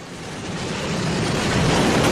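A train sound effect plays as a broad, rushing rumble that swells steadily louder over about two seconds, with nothing else heard.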